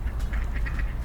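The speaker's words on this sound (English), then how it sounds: "Oh, the ducks are coming, look." Ducks quack repeatedly and close by as they are fed bread, a quick series of short nasal calls over a low steady background rumble.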